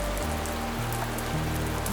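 Steady rain patters on a surface, a dense, even hiss of drops with occasional brighter splats, mixed with low sustained tones beneath.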